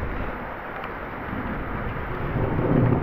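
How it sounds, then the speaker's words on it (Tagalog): Rain and rumbling thunder during a solo motorcycle ride in the Benguet mountains, a steady broadband wash of rain and wind with a low rumble that swells louder near the end, no talking. "Ay, nako. Ulan."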